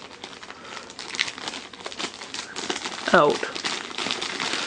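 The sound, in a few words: taking a first aid kit out of a plastic bag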